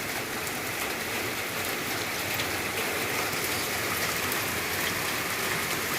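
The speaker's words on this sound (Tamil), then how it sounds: "அது என்ன மழை பெஞ்சிட்டு இருக்குன்னு" Rain pours down outdoors on a rainy day, a dense, constant hiss of falling water at a steady loud level for the whole stretch, with no talking heard.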